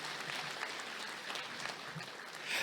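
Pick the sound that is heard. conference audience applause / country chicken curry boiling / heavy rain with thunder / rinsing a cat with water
conference audience applause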